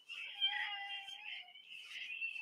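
A cat meows in a long, drawn-out call, then gives a second, shorter meow, close and clear against an otherwise quiet room with no talking.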